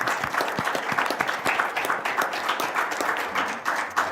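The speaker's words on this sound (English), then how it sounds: "if I can have a round of applause for our panel" A room of attendees applauding a panel at a youth justice report release, moderately loud clapping with distinct individual claps standing out, sustained throughout.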